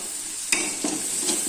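A spoon stirs tomato thokku with green chillies and asafoetida in a pan, giving a few soft scraping strokes over a faint sizzle, close and quiet, with no voices.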